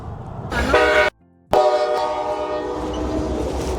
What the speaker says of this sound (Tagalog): Yeah, tourist train.